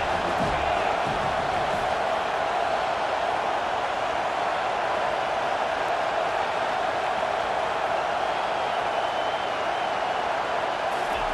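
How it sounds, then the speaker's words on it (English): Stadium crowd at a college football game in a video game at USC, a steady loud roar of cheering and noise holding throughout with no break. "This crowd bringing the energy and noise early."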